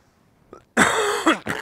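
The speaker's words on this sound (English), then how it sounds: "Sorry, guys. I've had a cough." Close by in a quiet room, a person gives a harsh, throat-clearing cough in two or three quick bursts after a small preceding sound.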